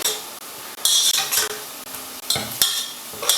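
Onion browning in a pan for vegetable pilau, a steady sizzle broken by several sharp scrapes and stirs of a utensil, close and fairly loud, with no voices.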